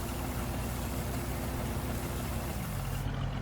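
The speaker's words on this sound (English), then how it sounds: "You hear the engine pick up when I started?" A tractor engine in Farming Simulator 19 runs steadily at a loud, constant drone with a low rumble, then drops off near the end as it shuts down.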